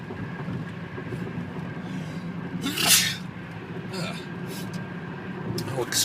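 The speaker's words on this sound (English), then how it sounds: "excuse me while I sneezed there." A single sharp sneeze bursts out near three seconds over a steady low rumble of background noise, with a couple of fainter bursts afterward.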